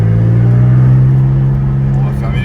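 Porsche 718 Spyder engine running at a loud, steady idle-like drone with a strong low hum, slightly easing toward the end, with no talking over it.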